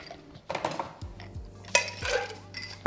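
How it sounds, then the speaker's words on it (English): A bartender stirs a margarita cocktail, glass and metal clinking in a few sharp taps and scrapes, close and fairly quiet, with a low ringing tone between strikes. "since we're still a bartender, we're gonna stir a little bit"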